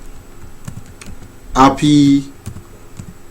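A few scattered, light keystrokes on a computer keyboard while typing in Microsoft Word, close and quiet, with a person speaking over the middle of the clicks.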